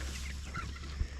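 White farm chickens crowded about thirty to a ten-by-ten crate, clucking softly and close by with a low murmur.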